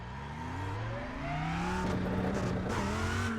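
A Lamborghini Huracan GT3 Evo race car at Spa in the iRacing sim, its engine revving up through rising pitch sweeps and shifting gears under load, loud and continuous with a raspy, buzzing exhaust tone.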